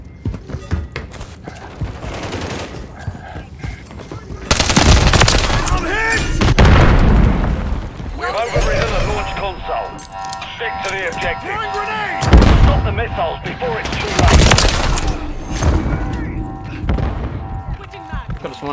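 Grenade blasts and gunfire erupt in Modern Warfare 3 multiplayer War mode, with loud booming bursts and crackling shots layered over frantic shouted voice chatter and game callouts throughout.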